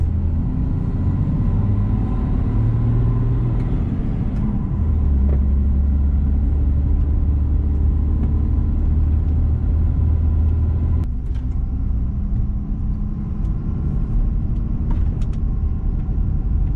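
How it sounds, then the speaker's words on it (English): A diesel pickup truck straining to pull another truck up a mountain road, a loud, continuous low engine rumble that rises and shifts as the load is taken, heard up close throughout. "I got my diesel, so hopefully this will pull it out"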